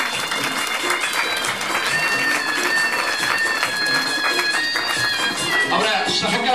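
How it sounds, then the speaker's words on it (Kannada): Audience applause fills a hall at a Yakshagana event, the finale of a solo-performance series in Davangere: a sustained, dense wash of clapping that runs steadily throughout while a voice speaks over it. "ನಿಮ್ಮೆಲ್ಲರ ಚಪ್ಪಾಳೆಗಳು"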